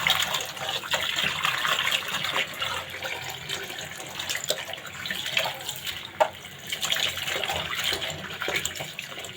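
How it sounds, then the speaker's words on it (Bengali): Cut cauliflower florets being washed in water in a kitchen, with running tap water, splashing and sloshing, and a few sharp clinks of the florets or bowl over about nine seconds. "এখন ফুলকপিগুলো ধুয়ে নেব।"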